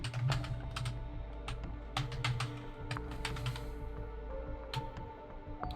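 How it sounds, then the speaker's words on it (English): Keys on a computer keyboard click in quick, irregular bursts of close typing, sharp taps over a low background hum with brief pauses between runs. "I apologize in advance for all the clicking noises"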